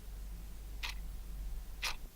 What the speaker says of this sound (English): check you can hear the clock movement quietly clicking round